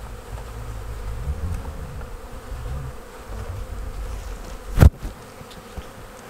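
A honeybee swarm settles into a hive at an apiary, filling the air with a steady, low, close buzzing throughout, broken once near the end by a single sharp knock, with no talking.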